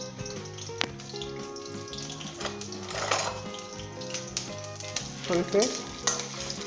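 Ginger and garlic frying in a pan for Lahori boondi salan, a loud continuous sizzle with scrapes and clinks of stirring, brief talk heard near the start.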